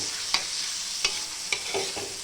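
Green chili and tomato thecha sautéing in a little oil: a steady close sizzle with sharp spoon scrapes against the pan roughly every half second, no voices.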